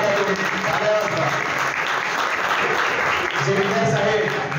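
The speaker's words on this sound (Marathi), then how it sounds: "टाळ्या लगेच मोबाईल सोडा हातातून, टाळ्या वाजवा." An audience claps steadily throughout at a science club's event marking Albert Einstein's birthday, a loud, continuous wash of hands with a voice talking over it.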